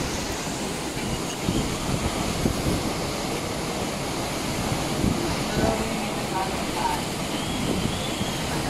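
Typhoon Rolly's storm wind and rain make a constant, heavy roar close to the microphone, gusting stronger and weaker without letting up.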